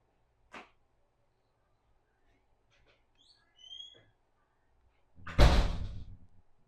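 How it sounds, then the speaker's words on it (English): A door is pushed shut in a quiet room, a few faint creaks and scrapes followed by a loud solid slam near the end. "Tyson, could you close that door for us for a second?"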